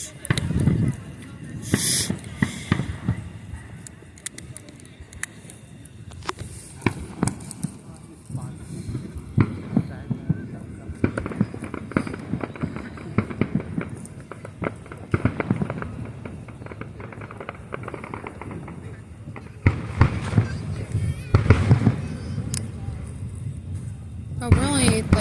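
Independence Day fireworks display in Washington DC: scattered distant booms and crackling bursts at irregular intervals across the clip, under frequent nearby conversation and crowd ambience.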